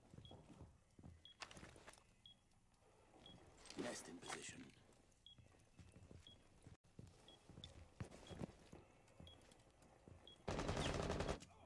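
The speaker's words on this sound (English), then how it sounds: "Shots are going to go, and CNZero does take out Unlogical" Gunfire in Rainbow Six Siege during a college esports match, several bursts of shots mixed with game effects and faint repeated beeps, heard under a commentator talking.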